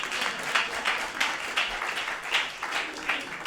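Audience applause after opening remarks at a film screening event, a steady wash of many hands clapping that swells and ebbs through the clip, fairly distant and with no voices over it.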